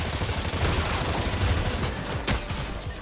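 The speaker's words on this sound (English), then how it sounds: "Clix is using this SMG." Rapid SMG fire in the video game Fortnite, a dense continuous stream of shots with one sharper crack near the end, loud and close.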